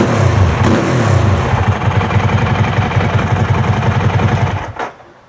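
A Ducati 999R motorcycle engine runs hard on a dyno, a loud steady rumbling roar with a pulsing firing rhythm for several seconds before it cuts off abruptly near the end.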